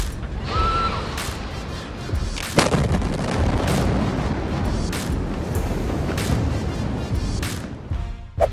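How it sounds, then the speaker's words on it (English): A deep, sustained roar of the massive Beirut explosion with sharp cracks and booms breaking through a continuous rumbling blast, loud and overwhelming throughout. "The Beirut explosion from a new and completely astonishing point of view"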